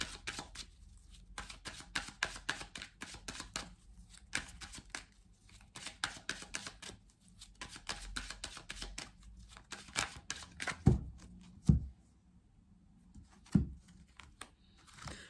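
Tarot cards being cut and shuffled by hand: a steady stream of soft riffling and flicking, closely miked, with a few sharper snaps of the deck near the end and no talking.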